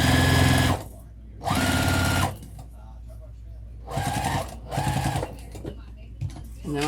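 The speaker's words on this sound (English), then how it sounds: "now I'm just gonna sew right off the edge" A sewing machine stitches a vinyl tote bag in several loud, close bursts of rapid needle clatter lasting a second or so each, with quieter gaps between them and speech in the gaps.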